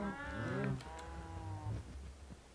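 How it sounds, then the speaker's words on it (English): Cows in the Minecraft video game moo loudly, two long drawn-out bellows close together, up front and alone with no talk. "The cows are freaking loud."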